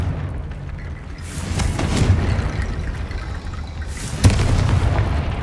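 A Confringo spell explosion in Hogwarts Legacy on PC: loud rumbling booms that swell and crackle, with a sharp blast near the end, over dense game ambience.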